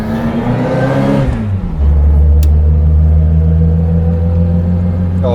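A Reliant Fox's engine drones loudly from inside the moving car with ignition timing slightly off, its steady low hum dipping briefly as it shifts down before settling into a strong, even rumble.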